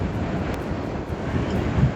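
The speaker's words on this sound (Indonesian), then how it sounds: "Karena jalannya lebar ya, makanya angin lumayan besar" Steady roaring wind buffets the microphone while riding a motorbike at about 70 km/h on a wide road, a dense rushing noise with no pauses, loud and close throughout.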